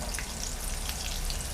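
Butter melting in a hot pan for cooking rice gives a steady, dense sizzle throughout, close and fairly loud, with no voices.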